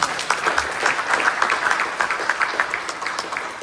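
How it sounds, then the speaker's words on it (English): A room of members gives a round of applause at a tour guides' association membership meeting, steady dense clapping for a few seconds at moderate distance, no one talking over it. "How about a round of applause?"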